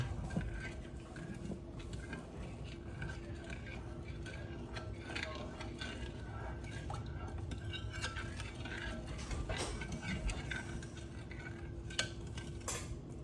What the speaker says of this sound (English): Now we give it a good stir.